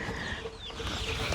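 Chickens clucking close by: a brief run of soft, scattered clucks and small squawks over a steady background hiss, with no talking.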